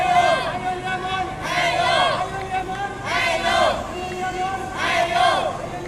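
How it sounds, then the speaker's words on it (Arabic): Stadium crowd of fans cheering for Yemen's youth national team at an Asian youth cup match in Laos, a loud sustained roar of voices with rhythmic surges of chanting and shouting swelling every second or so. "شكرا لمن جلب هذا الجمهور ليشجع منتخبنا."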